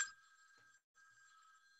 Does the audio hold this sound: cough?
no